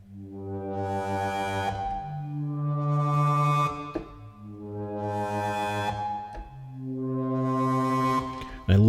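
Four swelling orchestral crescendos from the Metropolis Ark 5 sample library in its medium overdrive articulation, each rising from soft to loud with rich harmonics and a gritty distorted edge at its peak, separated by brief gaps.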